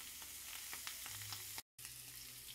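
Chopped chorizo fries in oil in a pan. A faint, steady hiss of sizzling is dotted with small pops, breaks off for a moment, then carries on quietly, with no one speaking.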